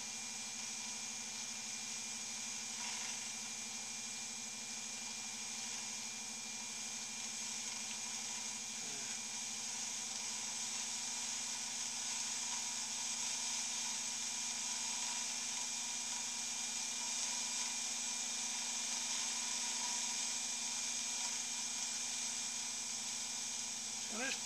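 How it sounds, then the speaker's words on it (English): A small Taig lathe turns metal ball handles with light, careful cuts, keeping up a steady, faint motor hum and whine with soft scraping of the tool. Occasional tiny clicks come through, with no talking. "It's just a small lathe, so you can't expect too much from it."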